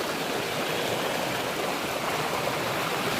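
A shallow mountain stream flowing at low volume over slippery ground near a hillside home, giving a steady, close, unbroken rushing hiss with no voices.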